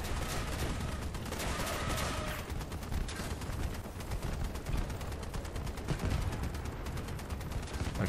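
Dense, rapid gunfire from vehicle-mounted weapons in the combat game Crossout, a continuous clattering barrage of shots at steady volume with no talking.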